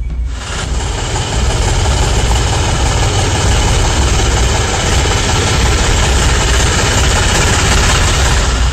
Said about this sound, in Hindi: बैलगाड़ी गुजरी तो न्यू इंडिया का ट्रैक्टर आ गया।